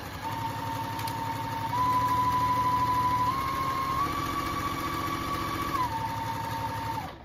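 A sewing machine stitches two layers of fabric for a reusable bowl cover, whirring steadily and close for several seconds with its speed rising slightly partway through.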